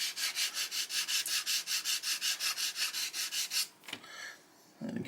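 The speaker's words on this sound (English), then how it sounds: "switch it over now to the finer grit, I guess higher number grit" Fine-grit sandpaper rubs back and forth on a small M1A2 Abrams 1/48 scale model tank part, a close, even run of about sixteen rhythmic scratchy strokes, then a pause and a brief final rub.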